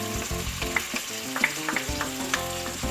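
Masala sizzles loudly in a pan as yogurt goes in, a dense frying hiss broken by sharp pops and the scrape of stirring, with no voices.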